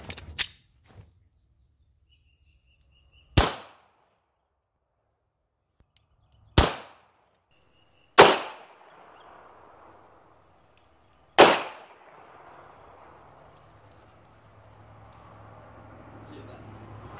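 A SAR 9 pistol fires at a Kevlar wall: five sharp, loud gunshots spaced a few seconds apart, each with a quick decaying echo, with a faint hiss lingering after the later shots.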